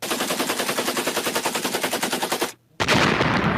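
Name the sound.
gunshot sound effect on radio show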